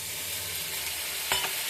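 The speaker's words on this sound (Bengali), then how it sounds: "এবার দিয়ে দেব জল।" Water goes into a pan of frying poppy seed and melon seed paste with sugar, and it sizzles loudly and evenly. A brief utensil knock comes near the end of the short burst.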